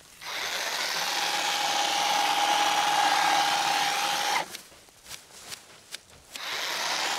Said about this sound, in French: Zakaria essaie un nouveau modèle de coupe électrique.